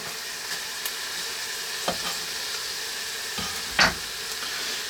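Garlic and cilantro frying in a pan for Tunisian lablabi, a steady soft sizzle with a few stirring clicks and scrapes, close and alone without talk.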